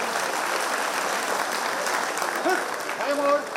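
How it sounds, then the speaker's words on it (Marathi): Steady, dense applause fills a Mumbai Police retirement ceremony honouring retiring constables, holding loud and even throughout, with a voice rising faintly over the clapping near the end. "टाळ्या जोरदार वाजवाव्यात,"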